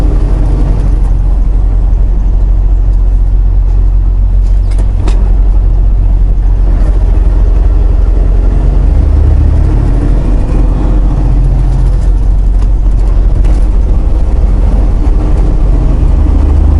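Steady, loud low engine drone and road rumble inside the cab of an aging semi truck, continuous throughout with no talk.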